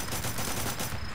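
Rapid gunfire from the Android zombie shooter game Guns, Cars, Zombies, a dense continuous burst of loud shots filling the whole moment with no talking.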